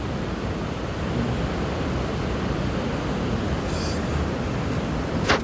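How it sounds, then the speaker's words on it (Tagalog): A waterfall at a camping site in Norway, heard as a steady, dense rush of falling water that stays constant and fairly loud throughout, with no voices over it. "Sa taas meron ding falls dito no?"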